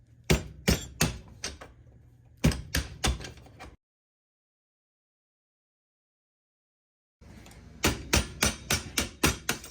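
A screwdriver is tapped with a hammer to drive out a pin on a Vendo 39 Coke machine, sharp metallic knocks in quick bursts of four to six, then a long silence before a faster run of strikes.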